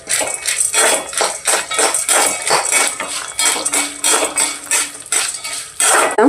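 Beaten rice and sesame seeds being dry-roasted in a pan, with a busy, continuous run of scraping and clinking from a utensil against the metal, loud and close, rhythmic strokes with no talking.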